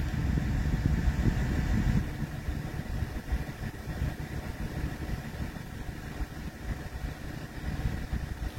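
A BMW E46 330d diesel engine idles with a steady low rumble, a bit louder at first and then settling to an even, continuous drone.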